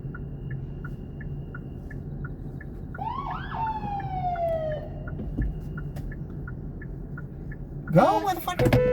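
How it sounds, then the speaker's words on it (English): A fire truck siren on the streets of Austin, Texas, heard from inside a Kia Niro EV; a rising wail sweeps up among steady beeping, growing louder near the end. "you don't hear that fucking fire truck?"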